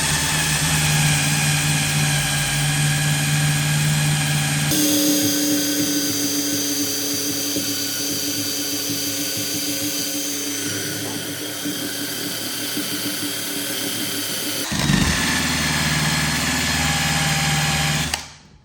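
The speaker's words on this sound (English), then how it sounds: "I have the wheel remover, decal remover, whatever." A drill-driven decal eraser wheel strips badge adhesive from a Ford F150. It gives a steady high motor whine that drops into a rougher grinding drone as the wheel works the surface, then rises to a freer whine before it stops.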